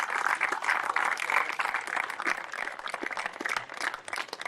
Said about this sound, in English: Give them a round of applause for their work so far.